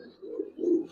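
Giribaz pigeons in a home loft, two soft, close low coos in quick succession over a quiet background.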